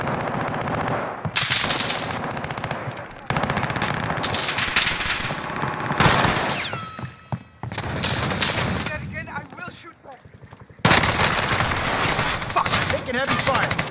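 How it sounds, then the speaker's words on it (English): Heavy gunfire in a Call of Duty Warzone match: loud bursts of automatic fire and rapid shots come in several long volleys, separated by short pauses, close and dominant. "Heavy fire."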